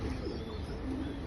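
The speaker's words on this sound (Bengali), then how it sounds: "একটা নীলদম্বা কবুতর" A Nila Domba pigeon cooing close by, a brief soft low coo over a quiet background.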